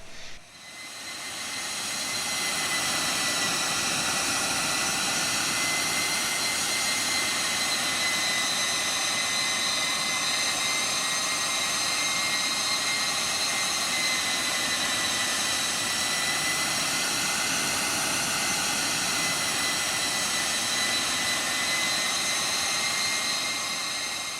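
Jet airliner engines in X-Plane 11 climbing toward a 35,000-foot cruise altitude, a loud steady roar with whining tonal hum that holds constant throughout, with no talking.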